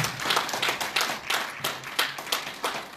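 A live-broadcast audience claps in a fairly rhythmic, pulsing pattern, loud and close, several hands striking together in repeated bursts without speech.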